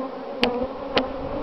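Honey bees work over dirty hive frames in a grafting yard, a steady close buzz with a couple of brief louder passes as individual bees fly near.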